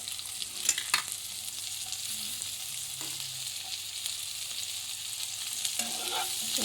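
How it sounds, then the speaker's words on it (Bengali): Onion and tomato fry in a pan with a continuous bright sizzle. Occasional stirring knocks and scrapes sit under the crackle, and the sizzle rises slightly toward the end. "এবার দিয়ে দেবো পেঁয়াজ পেঁয়াজ টমেটো সব একসাথে দিয়ে দেবো"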